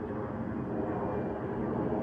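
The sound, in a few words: airplane flying above the clouds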